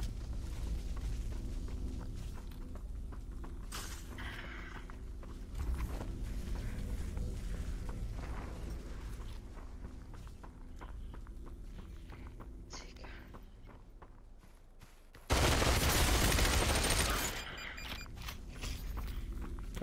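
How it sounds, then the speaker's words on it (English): A sudden, loud burst of gunfire in a multiplayer shooter game lasts about two seconds, breaking in late over quieter game ambience with faint footsteps. "I'm being shot."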